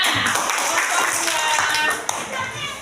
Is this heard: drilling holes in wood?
no